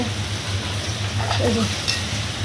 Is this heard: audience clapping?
no